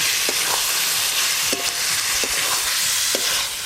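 Fried potatoes dropped into a pan of spice masala already sizzling in oil for a fish kalia, giving a steady loud sizzle with several short clinks of a spoon against the pan.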